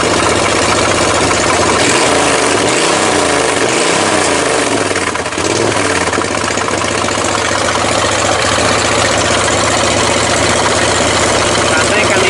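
A propane-fuelled race lawn mower engine, just back upright after being flipped over and now smoking a little, idles steadily at close range. The note is loud and continuous, with a few throttle shifts early on.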